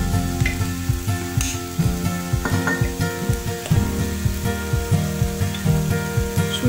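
Local oil and a little fat sizzle on an electric griddle while msemen flatbread is being made, with a loud, continuous crackle and a rapid, busy patter of spitting pops close by throughout.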